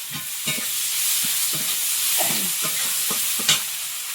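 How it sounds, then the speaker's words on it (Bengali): Chopped garlic and whole cumin seeds frying in hot oil with onion, a constant loud sizzle with a spatula stirring and scraping at an irregular rhythm. "কুচানো রসুন একটু গোটা জিরে তেলের মধ্যে"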